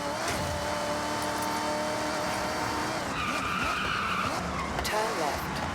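Supercharged car engine roaring with tire skids and squeals in the Forza Horizon 6 racing game, a sustained loud drive with whine and screech throughout, brief overlapping voice.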